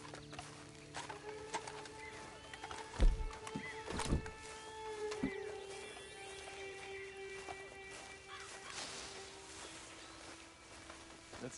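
A horse in Red Dead Redemption 2 gives a couple of sharp snorting bursts and shifting movement sounds, faint and close, set against quiet outdoor ambience with birds.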